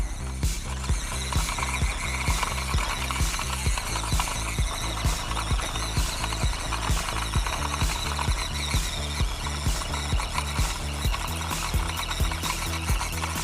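A WPL C24-1 RC Toyota Hilux truck climbs a hill at full throttle, its small electric motor and gears whining steadily with a rapid, pulsing grind from the spinning wheels throughout.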